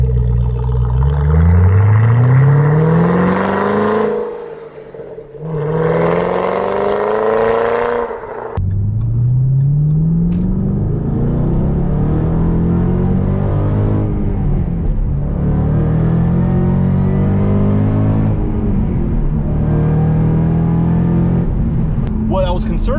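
A 2014 Shelby GT500 fitted with a Borla ATAK exhaust accelerates with the windows up, its engine note climbing through repeated rising sweeps as it pulls through the gears, loud and steady inside the cabin.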